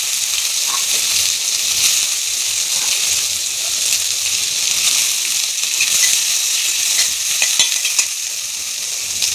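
Onions frying in oil over cumin seeds for a bhindi masala, a loud, steady hiss and crackle that fills the whole stretch, with occasional stirring scrapes close by and no talking.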